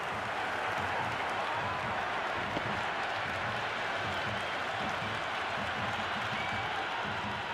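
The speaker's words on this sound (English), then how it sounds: "The crowd is electric right now." A cricket stadium crowd at an India versus New Zealand T20 World Cup final roars and applauds after a six, a dense, loud, sustained wash of cheering with no break.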